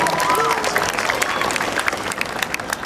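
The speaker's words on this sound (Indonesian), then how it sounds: "Tepuk tangan dulu buat semua peserta dulu," Crowd applause for participants at the opening of a regional student sports competition, a dense clatter of clapping with a few cheers and a whistle-like tone, fairly loud and continuous.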